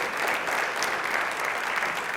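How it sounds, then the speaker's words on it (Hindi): Loud audience applause from a studio crowd on a televised quiz show, a dense continuous roar of many hands clapping close and steady. "तो ताली बजा दीजिए एक बार जोरदार।"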